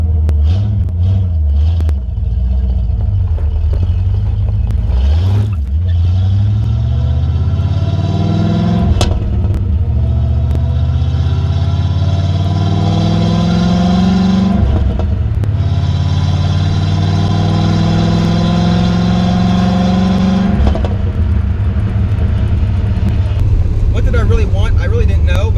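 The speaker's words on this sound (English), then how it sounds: "the exhaust sounded much better, but wasn't quite what I really wanted" Modified exhaust on a C4 Corvette revving steadily, a loud, continuous engine drone with repeated rising and falling pitch sweeps as the throttle is blipped, heard close and alone without talk.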